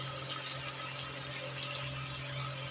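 A thin, steady trickle of mixer-jar rinse water pours into a pot where bottle gourd and potato are cooking. It is faint, continuous and splashy over a low background hum.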